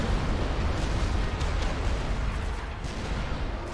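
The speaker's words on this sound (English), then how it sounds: "Love those explosions." Dense, continuous rumbling blasts of explosions in the video game Supreme Commander, heavy low booms overlapping with crackling bursts, steady and fairly distant, no talking.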